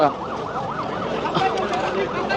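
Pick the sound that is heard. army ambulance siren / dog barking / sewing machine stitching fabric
army ambulance siren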